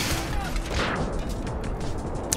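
An AN-94 rifle fires in burst mode in a first-person shooter, with rapid short bursts of gunfire crackling over dense battle noise, loud and continuous.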